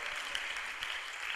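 A church congregation applauds during worship, a soft, distant patter of many hands that stays even and continuous, with no speech over it.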